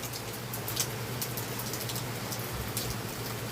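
Heavy rain pours steadily during a July thunderstorm, a dense continuous hiss of drops on surfaces with no break, heard alone at an even loudness.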